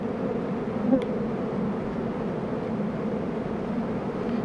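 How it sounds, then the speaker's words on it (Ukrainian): Honey bees buzz steadily at close range at the hive, a dense continuous hum with a brief louder buzz as one passes near. "тут бджоли дуже багато, тут треба буде магазин ставити"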